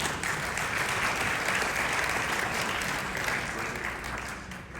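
Audience clapping at an international mushaira poetry gathering in Dallas, a full steady roar of many hands that holds evenly, then tapers slightly toward the end.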